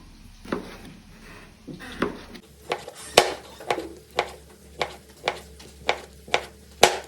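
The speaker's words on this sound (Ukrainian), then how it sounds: "Поки цибулька смажиться, я швиденько ріжу нирки" A knife slices kidneys into thin half-rings on a board, giving a steady series of crisp, evenly spaced taps after a quieter start, close and moderately loud, with no talking.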